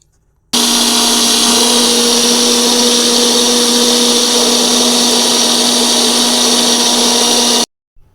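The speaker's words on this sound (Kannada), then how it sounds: "ಅದೆಲ್ಲ ಐಟಮ್ನ ಒಟ್ಟಿಗೆ ಹಾಕಿ ರುಬ್ಬಬೇಕು ನೋಡಿ" A kitchen mixer grinder runs loud and steady for about seven seconds, grinding chopped Malabar spinach curry ingredients with mustard seeds, starting and stopping abruptly with a constant whirring drone.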